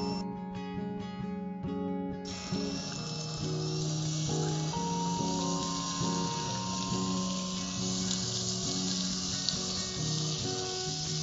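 Paneer cubes fry in melted butter with cumin seeds, a steady close sizzle running the whole time, with faint stirring and turning sounds and low background music.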